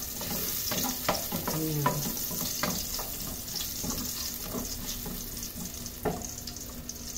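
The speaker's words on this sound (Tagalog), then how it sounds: "Palutuin lang natin yung ating bawang." Garlic frying in a pan for lapu-lapu sinigang sa miso, a steady close sizzle with scattered stirring scrapes and clatter, while a voice briefly speaks.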